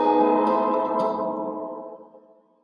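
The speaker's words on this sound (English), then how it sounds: "It's still a strong reverberation, but it's just more under control if we want a lot of reverb." Teensy Freeverb reverb effect applied to a sound, a dense ringing tail that holds strong and then decays smoothly into silence over about two seconds.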